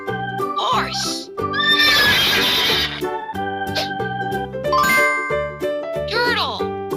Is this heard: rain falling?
no